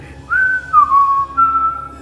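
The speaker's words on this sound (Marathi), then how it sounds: "तू माझी शिट्टी नको मारू ही माझ्या आवडीची शिट्टी आहे" A person whistles a short tune, a few clear sliding notes with brief pauses, close and alone against a quiet background.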